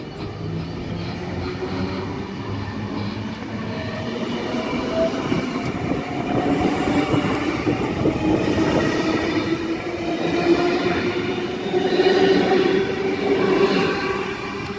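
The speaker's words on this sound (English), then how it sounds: "At Lumiere we have S135 and friend, now departing platform number 2, Macarthur service" An S-set electric suburban train pulls away from a station platform on a Macarthur service, its steady close rumble and wheel clatter building slightly as it departs, with no voices.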